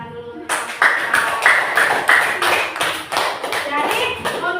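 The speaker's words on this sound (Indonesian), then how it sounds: "beri tepuk tangan dulu" A class claps hands in unison, a series of sharp, rhythmic group claps at a steady beat, near and fairly loud, with a voice speaking briefly at the start.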